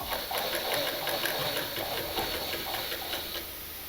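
A sewing machine stitches fabric for a newborn's cap-sleeve jabla dress, a steady rapid mechanical whir with fine ticking pulses running continuously throughout, close and fairly loud with no voices.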